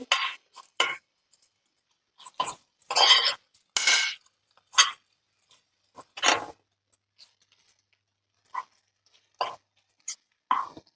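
A spoon clinks and scrapes against a pan as grated coconut is stirred into red chilli masala for vajdi fry: close, irregular metallic taps and scrapes separated by short silences.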